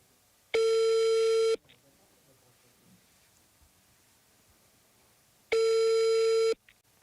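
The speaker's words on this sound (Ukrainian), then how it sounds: "Телефонні дзвінки скидалися відразу після того, як чули, що до них телефонують журналісти" A telephone busy signal after a dropped call: two steady, loud one-second tone bursts about four seconds apart, with quiet room hiss in between.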